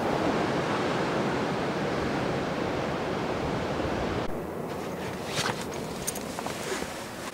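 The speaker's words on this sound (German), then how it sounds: "Das Meer hat sich ein bisschen beruhigt über Nacht." Sea waves wash onto the coast in a continuous broad roar, loud and close at first, then easing slightly as faint clicks and rustles come through.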